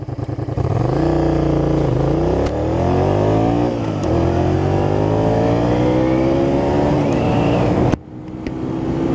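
A 2007 Honda VTR250 motorcycle is ridden hard on back roads, its engine revving loud and near in repeated rising pulls that cut off abruptly near the end.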